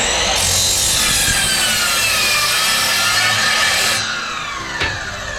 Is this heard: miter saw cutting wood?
yes